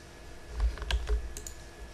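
A computer keyboard gives a handful of quick, close key presses in a short cluster, crisp and moderately quiet against a faint background hum, with no voices.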